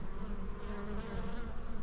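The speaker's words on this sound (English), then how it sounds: "It's a nice look. Got some fall bees." Fall honey bees hum at an open hive during feeding and treatment, a steady close drone of many wings running without pause, with no voices.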